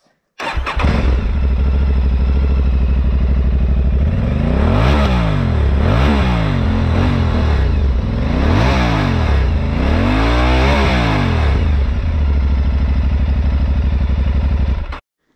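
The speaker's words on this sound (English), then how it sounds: "Normally I'm not so picky about the sound my motorbike makes, but I must say this one really sounds nice." An Aprilia Tuareg 660 motorcycle engine starts, idles with a deep throb, then revs up and down several times before cutting off abruptly.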